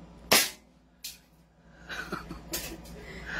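A 2011 PitViper 5.1 JWC airsoft gun fires at an indoor range, giving a sharp close snap followed by quieter clicks and thuds, with faint voices in the background.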